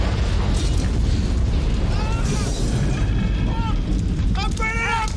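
A loud, continuous low rumble of movie explosions from the film Backdraft booms throughout, with excited voices talking and exclaiming over it.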